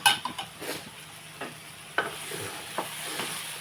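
Brinjal and raw mango curry sizzling in a pan, with a spoon stirring and scraping in a few short, close strokes over a soft, steady frying hiss.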